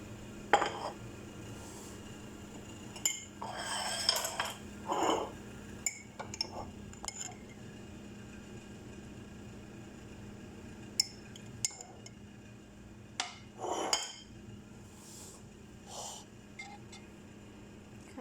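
A spoon stirs mayonnaise sauce in a bowl while shawarma is being made, giving sparse, light metallic clinks and scrapes against the bowl over a quiet kitchen background, with occasional busier bursts.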